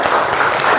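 A classroom of students claps for a classmate, a short burst of close, loud applause.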